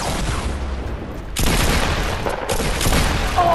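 Dense, continuous rattling gunfire from the Fortnite video game, loud and close, with a sharp surge in intensity partway through and no pause.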